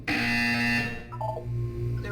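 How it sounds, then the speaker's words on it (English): A loud, harsh electronic buzzer from the video game Portal sounds once close up, holding steady before shifting into a lower tone and fading. "You will hear a buzzer."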